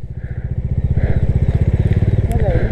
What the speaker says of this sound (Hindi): पहले गियर में ला रहा हूँ अभी